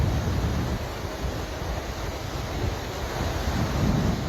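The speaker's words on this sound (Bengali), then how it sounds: "এবং পানি আসার যে শব্দটা অসাধারণ" Rushing water of the Rangpani river pouring over large boulders below a hill in Sylhet, a steady broadband roar close by with some wind buffeting, no voices.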